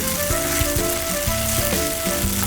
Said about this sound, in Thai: จากนั้นเราใส่เต้าหู้ลงไปนะคะ แล้วก็ผัดให้เหลืองนะคะ จนเต้าหู้แห้งนะคะ